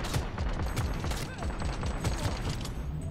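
Rapid assault rifle fire in Cyberpunk 2077, a dense, steady burst of close shots rattling continuously with mechanical clicks, with no voices over it.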